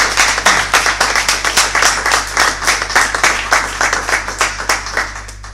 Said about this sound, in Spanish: Os demando un aplauso a ellas